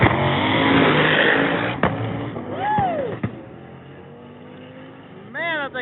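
A drag racing car launches and accelerates down a quarter-mile strip, a loud engine roar that dominates the first seconds and then fades into the distance, with a commentator talking over it and a pass-by whine near the end.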